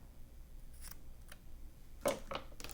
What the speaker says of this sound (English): I'll want to trim the edges just a little bit